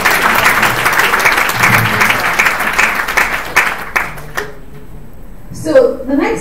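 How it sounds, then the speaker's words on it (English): Audience applause at an International Women's Day event, a dense, even wash of clapping that lasts about four seconds before fading out, followed by a voice starting to talk. "So please clap for yourselves"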